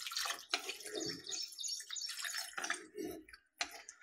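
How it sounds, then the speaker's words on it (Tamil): Water poured into a pan of cooking chicken, heard as close splashing and trickling in irregular bursts with short pauses between, fairly quiet and alone. "நம்ம தேவையான அளவு தண்ணி ஆட் பண்ணிக்கலாம்."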